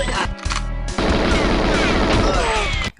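Rapid gunfire from the video game 007 GoldenEye, a dense continuous burst of shots filling the whole clip with a brief dip early on and a short gap near the end, loud and without talk.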